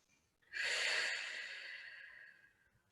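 A single long, breathy exhale during a yoga pose, close and soft, rising quickly and then fading slowly over about two seconds in a quiet room.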